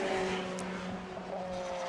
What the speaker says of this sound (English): Josh Barrett, I was distracted by Bradley John coming past the commentary box just now down the start-finish straight